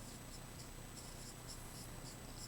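Someone writing on a board, a faint, close, rhythmic scratching of strokes repeating at a steady pace, with no talking.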